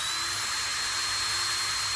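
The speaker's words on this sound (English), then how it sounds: "That way I can make sure I'm drilling the hole in the right spot." A power drill with a 3/8 bit spins briefly to mark a center hole for a G-body disc brake upgrade, a steady, fairly quiet whirring hiss with no talk over it.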